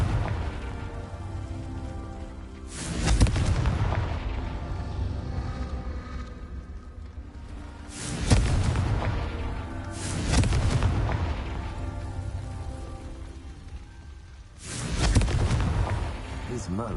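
Repeated Confringo fire-spell explosions in the Hogwarts Legacy video game land as four deep, booming blasts spaced a few seconds apart, each decaying into a rumbling tail over a steady ambient game bed.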